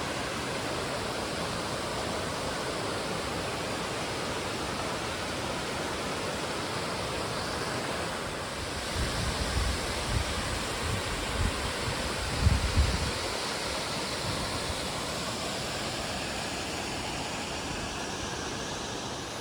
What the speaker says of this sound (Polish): No, wodospad, wodospad cyklawa.